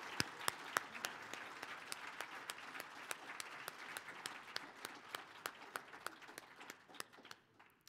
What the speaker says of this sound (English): Let's just give one more warm welcome and applause for Kyle Stanley and his group, Kiyanaw.